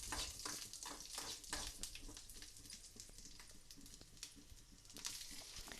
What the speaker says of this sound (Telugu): ఇప్పుడు ఇదే పాన్లోకి మిగిలిన ఆయిల్లో పచ్చిమిర్చిలను